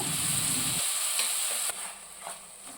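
Ridge gourd chutney with green chillies is stirred into a hot tempering in a pan, giving a steady frying hiss and sizzle with soft scraping of the spoon, quieting partway through.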